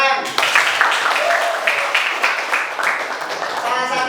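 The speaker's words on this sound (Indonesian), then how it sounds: "Ya, tepuk tangan." Applause in a classroom lecture session, a short burst of many hands clapping at a steady moderate level, fading slightly toward the end with voices mixed in.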